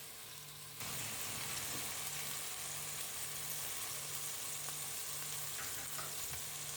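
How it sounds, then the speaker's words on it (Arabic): Kebab meat fries in a pan with a steady, even sizzle that starts abruptly and continues close and moderately loud, with a faint low hum running beneath it. "نزيد نخليه يتقلى شويه"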